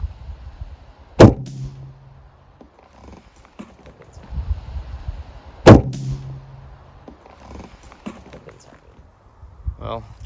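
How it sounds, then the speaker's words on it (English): An arrow shot from a bow splits another arrow at 20 yards. Two sharp, loud impacts sound several seconds apart, with quieter handling sounds and faint talk in between. "If you listen close, you'll hear the arrow being split."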